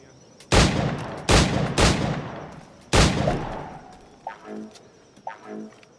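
Gunfire at targets in Assassin's Creed 4: Black Flag, four sharp loud shots spaced irregularly, followed by fainter metallic clicks as the gun is handled.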